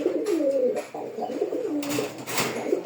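Racer pigeons in a loft give close, loud, rolling coos, several overlapping calls in quick succession.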